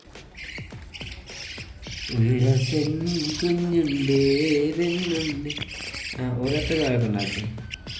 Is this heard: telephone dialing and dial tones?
no